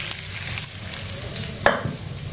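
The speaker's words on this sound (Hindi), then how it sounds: "ये कबाब जो है वो हमारे फ्राई हो गए हैं।" Chicken gola kebabs fry in a pan with a constant close sizzle, broken by a couple of brief scrape or stir sounds and no talk.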